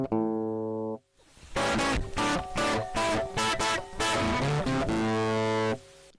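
Hard-limiting digital distortion effect on a melodic instrument: a clean sustained tone, a short gap, then a run of loud, harmonically dense, clipped notes with a long held note at the end, no voices.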